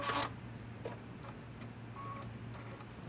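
An embroidery machine stitches a placement stitch for a Christmas tag, giving quiet, rhythmic ticking clicks over a low background hum.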